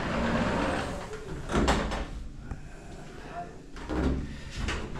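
An acrylic shower enclosure's white-framed sliding door rolls open and shut along its track, two brief rumbling slides over a steady background hum and faint talk.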